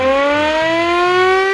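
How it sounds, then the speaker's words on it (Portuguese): A loud wailing warning siren for a lethal gas leak holds a steady, slowly rising harmonic tone, close and continuous, with no voices. "Que trem de sirene é essa, cara? Vazamento de gás letal."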